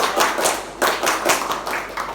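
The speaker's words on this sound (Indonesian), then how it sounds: "Kalau Bapak bilang tepuk semangat, tepuknya 3 kali ya." A whole class claps together in a brisk patterned spirit clap, several crisp group bursts in quick succession, near and loud with no voices over it.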